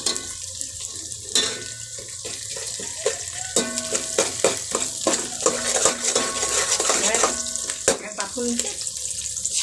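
Garlic and onions frying in oil in a home kitchen pan, a steady sizzle with scattered clinks and scraping stir sounds, close and fairly loud, with no talking.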